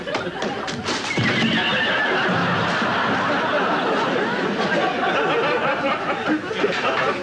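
A horse whinnies loudly over a busy, dense background of noise that fills the whole stretch without a break.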